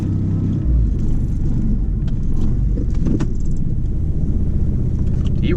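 Chrysler TC 16v car engine idling, a steady low rumble heard close up with some metallic clinks and small knocks over it.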